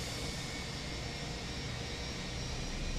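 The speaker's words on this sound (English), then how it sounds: "Oh, it's takeoff time. This sounds so good, this aeroplane." Fenix A319 airliner jet engines spooling at takeoff in Microsoft Flight Simulator 2024, a steady, loud, broadband roar with deep bass rumble and a high whine held constantly throughout, no voices.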